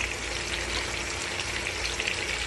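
Meat fries in a ground masala paste, giving a dense, even sizzle at moderate level across a short stretch, with no voices.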